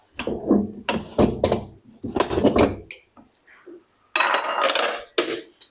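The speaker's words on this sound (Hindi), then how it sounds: "आइए अब लिड हटाकर कुकर को देख लेते हैं" A pressure cooker lid is lifted off a pot of slow-cooked mutton paya, giving metallic clanks and knocks in bursts between stretches of someone talking nearby.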